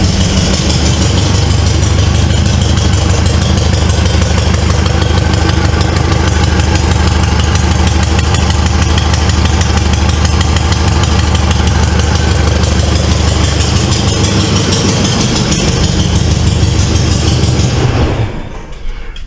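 A 1973 Volkswagen Beetle's air-cooled engine runs close and loud at a steady, throbbing idle for most of the clip, then shuts off abruptly near the end.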